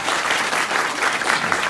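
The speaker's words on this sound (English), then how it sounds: "Let's give him another round of applause, guys." An audience claps steadily at a book signing, a dense, even round of applause that holds at full strength throughout, close and lively.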